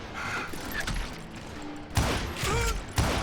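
Gunfire in the Western shooter Call of Juarez Gunslinger, with two sharp shots standing out near the two- and three-second marks over a busy game soundscape and no talk.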